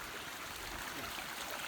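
Clear creek water flowing under a small footbridge at Minister Creek, Pennsylvania, a steady close rushing hiss without pause and no voices.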